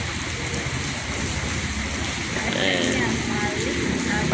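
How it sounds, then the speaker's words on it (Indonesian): Steady rain pours down close by, a dense hiss that grows slightly heavier toward the end, with faint voices mixed in. "Aduh, hujan."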